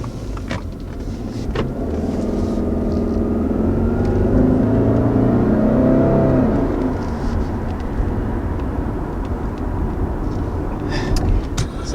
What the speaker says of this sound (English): That was our initial acceleration here in the XT 2020 Outback